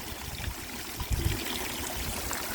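Water from a homemade garden waterfall trickles and splashes steadily at close range, a soft continuous flow with small gurgling surges and no voices.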